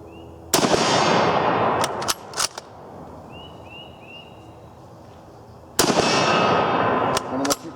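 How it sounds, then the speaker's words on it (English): Mauser rifle shots fired at a steel target outdoors: two loud, sharp cracks several seconds apart, each followed by quick metallic pings and ringing from the struck steel, with quiet background between. "5 shots out of a Mauser."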